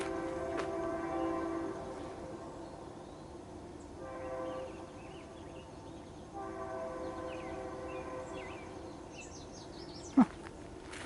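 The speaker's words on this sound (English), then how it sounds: "That train sounds sickly too." A train rumbles past in the distance, its horn sounding in long tones, with faint birdsong and a sharp click near the end.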